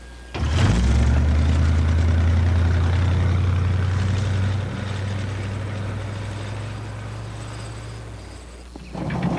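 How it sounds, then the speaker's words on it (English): A small aircraft engine starts with a sharp catch and settles into a loud, steady low drone with a throbbing rhythm. It eases slightly midway and runs on without pause, with no voices. "You're stealing an airplane."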